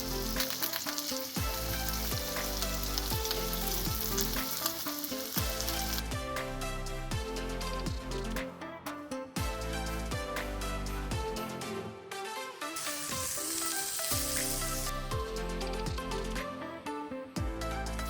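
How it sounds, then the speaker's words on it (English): Turkey melt sandwiches fry in browned butter in a pan, giving a continuous close sizzle with crackling pops and spatters throughout and no talking. "Once your butter is slightly browned, add the sandwiches and start frying."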